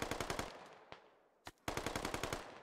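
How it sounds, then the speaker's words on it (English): Full-auto gunfire from the video game Squad, heard as two rapid, evenly spaced bursts of loud shots separated by a brief lull with a couple of isolated reports. "When you're firing full auto like that"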